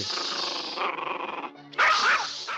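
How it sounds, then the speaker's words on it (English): A small dog growls and barks in the 1957 film Love in the Afternoon, a close, snarling run of yips and barks that breaks off briefly and then comes back louder. "Grumpy little dog."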